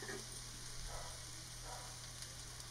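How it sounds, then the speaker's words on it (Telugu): Leafy greens (koya gura) frying in a pan in a home Telugu kitchen, a soft steady sizzle running evenly throughout at a low, close level with no voices. "ఈ ఆకు అంతా దగ్గర పడేంత వరకు ఫ్రై అవ్వనివ్వాలి"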